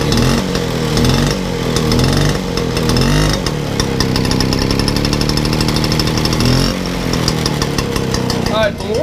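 Motobécane AV89 moped engine revving, loud buzzing two-stroke note that rises and falls through several throttle blips over nine seconds, close and continuous.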